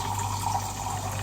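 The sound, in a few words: water poured into pan with Kolhapuri masala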